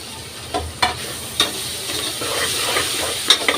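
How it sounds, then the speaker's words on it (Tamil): Mint and coriander being stirred into frying mutton paya (goat trotters) in a pan: steady sizzle with a few sharp scraping strokes of the spoon, close and moderately loud, no talk. "அதையும் போட்டு சேர்த்து மிக்ஸ் பண்ணி விட்டுக்கலாம்"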